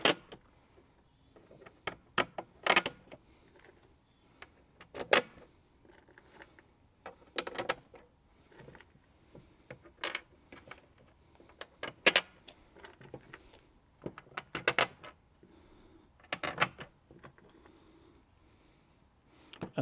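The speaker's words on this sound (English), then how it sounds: "open up my packet of screws and wing nut, start dropping the screws in." Screws are dropped one by one into a baluster railing mold, giving a series of sharp metallic clinks and rattles spaced a few seconds apart, fairly quiet, with no talking.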